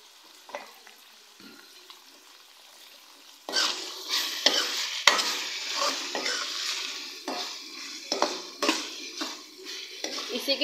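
Minced meat for keema biryani frying in a pan, quiet at first and then a loud sizzle broken by repeated scraping and clattering stirring strokes, heard close and without talk.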